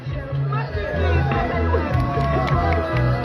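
Crowd of supporters cheering and murmuring in the main plaza at a Pisu Rumi strongman stone-lifting contest in Huayllay Grande, Peru, a steady lively hubbub with whoops over low droning background music.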